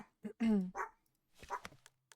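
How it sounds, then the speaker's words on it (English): A few dog barks and yips sound in short bursts, somewhat distant, with quiet gaps between them and no speech over them. "There's some barking, but I'm gonna keep reading."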